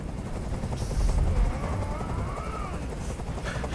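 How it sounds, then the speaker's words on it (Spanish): Helicopter hovering in the video game Detroit: Become Human, a steady low rotor rumble and drone filling the scene, with tense game sounds and a voice breaking through over it. "¡Haz que ese helicóptero se vaya!"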